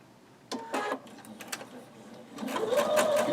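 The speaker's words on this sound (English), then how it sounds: "you're going to sew all the way to the outside edge again, because you're going to the outside edge" A sewing machine stitches a block's fabric pieces through to the outside edge, its motor whirring in short bursts and then one steadier, louder run near the microphone, with no talk.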